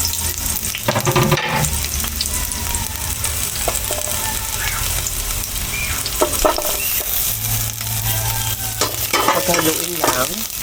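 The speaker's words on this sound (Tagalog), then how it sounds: "Lalagyan natin itong ating sibuyas at bawang." Onion and garlic hitting hot cooking oil in a pan: a dense, close sizzle and crackle with occasional spoon scrapes and knocks of stirring, steady throughout with no voices.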